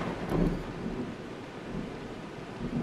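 Steady rain and rumbling thunder from the Vein survival game, a continuous broadband wash with a low roll swelling near the start, moderately loud and without speech.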